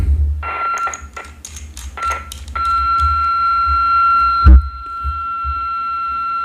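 A WEIRCOM WR88 Plus sport radio sounds after squelch is set: a quick run of beeps, then a steady electronic tone, with a click partway through, close and clear.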